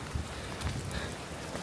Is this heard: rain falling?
yes